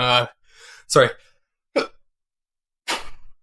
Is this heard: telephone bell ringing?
no